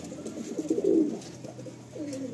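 A pigeon in a loft, of Andhra bloodline, gives a low throaty coo that swells and fades over about a second, followed by a fainter second coo, with a soft hiss of background noise.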